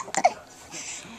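Baby hiccuping, a couple of quick sharp gasping hiccups close up, followed by a faint soft vocal murmur.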